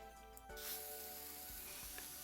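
Sims 4 terrain paint tool spraying a field of flowers in the video game: a steady, faint airy hiss like spray paint begins partway in and continues evenly, with a few soft ticks underneath.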